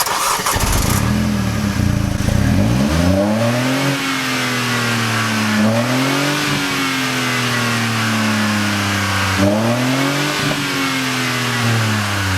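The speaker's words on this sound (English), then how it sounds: "now we'll have a listen to the exhaust" A Mini Cooper engine starts and revs several times, the exhaust note rising and falling in pitch, loud and close, then settling to a steady idle.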